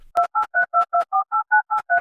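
A telephone handset plays a steady series of about ten short two-tone beeps at an even rhythm, clear and close with no talking.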